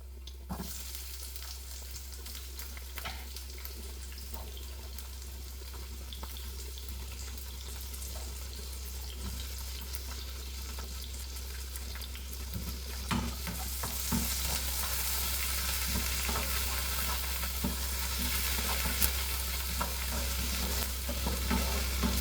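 Three small cherry tomatoes cook in a hot pan with a steady, soft sizzle and occasional stirring scrapes, the frying growing louder and brighter toward the end.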